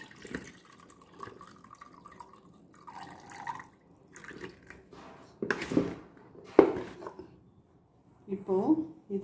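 Water trickles and drips in short, uneven bursts as it is poured off pickled baby mangoes, with a voice talking quietly at intervals.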